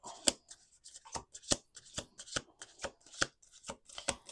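Tarot cards riffled and cut in a steady run of crisp, sharp slaps and flutters, about ten quick bursts, close up with no talking.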